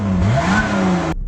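A 2020 Lotus Evora GT engine revs hard with its exhaust bypass button engaged, one loud close rising-and-falling blip lasting about a second before cutting off abruptly.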